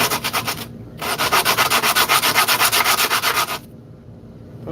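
Close, rapid back-and-forth sandpaper rubbing, with a brief pause and then a fast, regular run of strokes before it stops.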